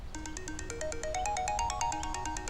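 A phone ringtone plays a repeating melodic electronic tune in steady pulsing notes, clear and alone for a few seconds in a Turkish drama scene.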